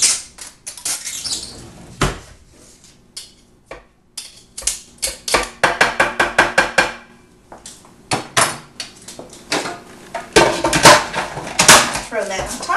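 Garlic cloves are pressed through a handheld garlic squisher in a kitchen, giving a series of irregular clicks, squeaks and crunching squeezes, close and fairly loud.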